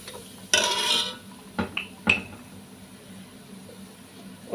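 A spoon stirs and scrapes spice powders, coriander and mild chili, in a hot pan for a Palakkad-style chicken curry: a few sharp metallic scrapes and clinks, close by, over a quiet kitchen background.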